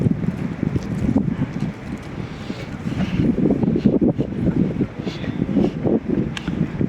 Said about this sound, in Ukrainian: Трохи вітряно, друзі.